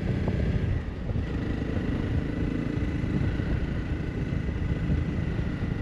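A new single-cylinder motorcycle riding at low speed in a high gear, a steady close engine drone mixed with wind rush on the microphone.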